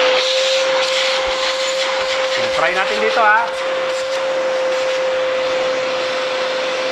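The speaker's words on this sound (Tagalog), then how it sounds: "ito po yung ating vacuum" A portable vacuum blower runs with a steady, loud motor whine and airy broadband rush throughout, while sand and small stones are sucked up. Someone speaks briefly over the constant drone.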